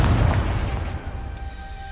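A Confringo fire spell exploding in the game Hogwarts Legacy, a loud, deep boom that rumbles and slowly fades over two seconds.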